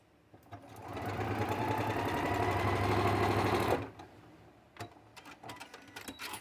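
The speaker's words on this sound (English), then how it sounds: "Quick little sew," A sewing machine runs in one steady, loud burst of rapid stitching through foundation paper piecing, then stops abruptly, leaving a few faint handling clicks.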